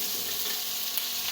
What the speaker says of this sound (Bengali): এখন ভাজছি।